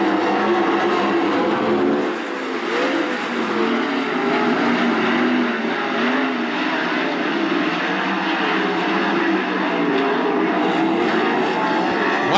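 A pack of 410 sprint cars roars around the dirt oval at Attica Raceway Park during a heat race, a loud, sustained engine drone with shifting pitch as cars sweep by, a commentator's voice faintly under the din.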